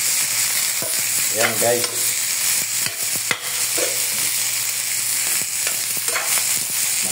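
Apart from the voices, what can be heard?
sautéing string beans and squash in a pan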